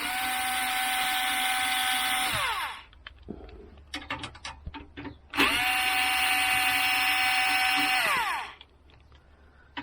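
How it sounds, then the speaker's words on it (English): Power screwdriver undoing the four power supply screws on the back of a Dell Optiplex 3020 case, two loud whirring bursts that wind down in pitch, with small clicks and handling noises between them. "You just undo these 4 screws on the back."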